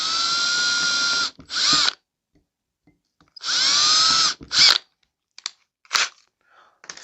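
A power drill bores holes in a mousetrap, with two long, close, high whining bursts, each followed by a short grinding crunch as the bit breaks through. Brief quieter clicks and short drill blips follow.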